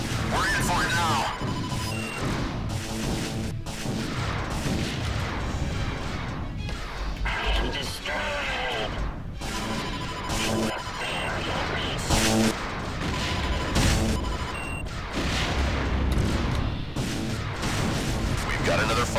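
Spaceship weapons in the space combat game Wing Commander Prophecy fire in rapid repeated blasts and crashing impacts. A dense, continuous barrage plays under game music and effects.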